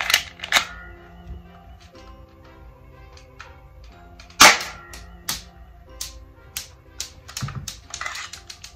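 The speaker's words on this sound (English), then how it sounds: "Let's do two more shots with this," Sharp snapping shots from a BB gun, Glock and Uzi replica pistols, a handful of isolated pops spaced seconds apart against a quiet room with faint clicks and handling noise.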